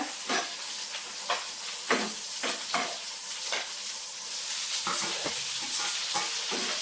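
Onions fry in a pan with a continuous close sizzle, punctuated by regular scraping stirs of a spoon against the metal throughout.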